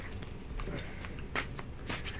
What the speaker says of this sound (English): Let me shuffle that one more time